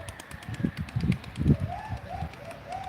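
Pigeon coos rise and fall in a soft, repeated rhythm, following a few low muffled thumps and flutters, fairly close by.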